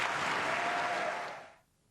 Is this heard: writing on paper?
no